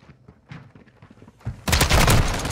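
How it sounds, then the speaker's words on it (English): A flash grenade in Call of Duty: Modern Warfare II bursts with a sudden loud bang. A harsh, bright, sustained noise follows the bang, after a few faint gunshots and footsteps. "Got that flash grenade"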